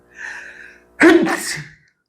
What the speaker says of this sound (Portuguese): Vou espirrar, meu Deus, de novo.